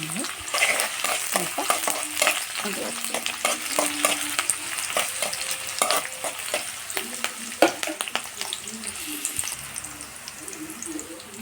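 Green chillies and onion sizzle and crackle in hot oil in a pan, with steady frying hiss, scattered pops and stirring scrapes throughout at close range.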